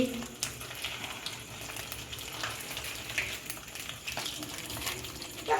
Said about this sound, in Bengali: শুকনো লঙ্কা দিয়েছি, তেজপাতা দিয়েছি, দিয়ে ভালো করে লাল লাল করে ভেজে নেব